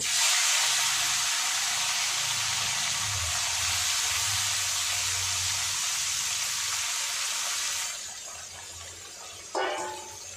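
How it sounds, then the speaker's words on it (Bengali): Morola fish fry in hot oil with a loud, steady hiss and sizzle for most of the stretch, easing and dropping near the end before a brief clatter. "আমি এবার মাছটা ভেজে নেব।"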